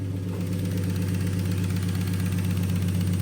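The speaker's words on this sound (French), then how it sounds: "Voiture démarrée. Ça a toujours l'air d'aller." An Infiniti G35 drift car idling just after starting cold, a steady, close, low engine hum with an even rhythmic pulse and no voices.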